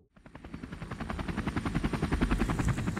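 A helicopter's rotor thumps rapidly and steadily as a film sound effect, swelling louder over three seconds as it approaches, with no talking.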